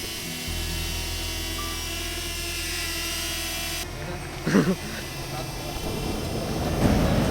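A drone hovers and follows from overhead, a steady mechanical hum with constant tonal whine, joined by a brief vehicle or engine hum before it cuts, followed by a short burst of nearby voices and shuffling.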